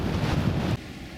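Strong wind buffets the microphone beside a flooded river bridge at Skipton-on-Swale in North Yorkshire, a loud low rumble that drops away sharply partway through.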